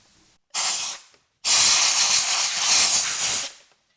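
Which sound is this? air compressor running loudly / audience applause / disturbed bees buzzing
air compressor running loudly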